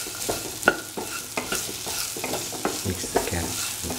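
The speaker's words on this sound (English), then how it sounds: "Mix all the ingredients so that the salt is evenly mixed." Beans and carrot stew being stirred with salt in a pan, repeated clattering scrapes of the spoon over a soft steady sizzle, close up and without talk.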